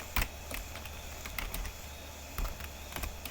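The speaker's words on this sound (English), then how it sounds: "So let me type" Sparse, faint key presses on a computer keyboard while typing a password into a login form, a few isolated clicks spaced irregularly over a quiet low hum, with no talking.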